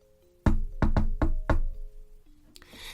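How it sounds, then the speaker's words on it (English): Four firm knocks land on a round wooden door in an uneven rhythm, close and distinct, over a soft musical drone, followed by a brief chime. "and so she knocked"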